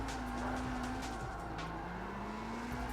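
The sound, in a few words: car drifting with throttle in video game CarX Street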